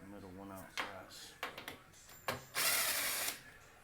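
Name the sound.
power driver with 1/4 inch bit removing stove screws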